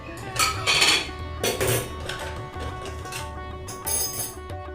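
A pot of tea being set on the stove gives several sharp metallic clanks and scrapes of cookware. They come close together near the start, with a final clatter near the end.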